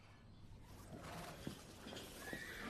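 Horses whinny and neigh in the distance, faint and thin, with a few soft hoof clops mixed in over low ambient noise.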